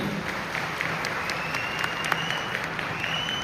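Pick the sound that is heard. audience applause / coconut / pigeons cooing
audience applause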